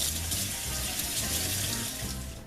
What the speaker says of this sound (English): Then we'll strain it and run it under cold water.